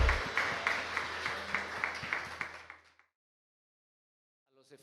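A church congregation claps during a Sunday service, dense applause for about three seconds that fades out into silence, with a voice starting faintly at the end.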